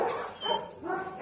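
A dog whimpering and crying in short, plaintive whines, close and fairly loud, rising into a sharper yelp at the end.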